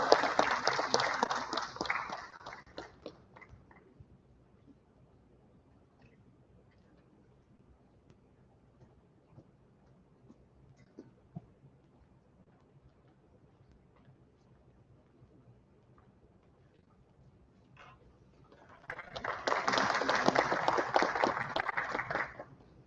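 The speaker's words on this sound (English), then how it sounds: "Please give him a big round of applause." Audience applause at a conference honoring an architect: a burst of clapping at the start fades out, then a quiet room with faint rustle, before a second loud round of applause swells near the end.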